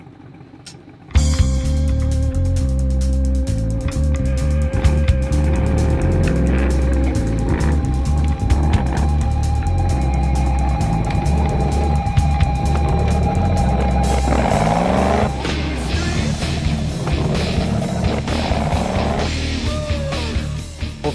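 Off-road trucks, including a 40-series machine, start up and drive on a track, a steady loud engine rumble running throughout with revving swells near the end.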